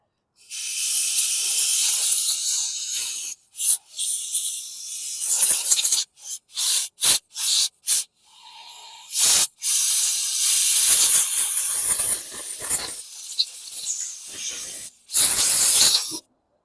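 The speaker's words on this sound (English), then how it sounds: "Can use some compressed air." Compressed air sprayed in loud, close hissing bursts to clean the carburetor of a 2009 Toro Recycler lawn mower. Several long blasts alternate with short quick pulses, separated by brief silences.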